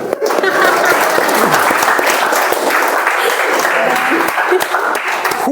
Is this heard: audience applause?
yes